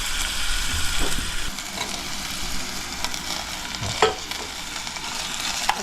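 Onion tempering sizzling in a pan for a Konkan mango shrimp curry, a steady crackling hiss close by, with a few stirring knocks and clatters.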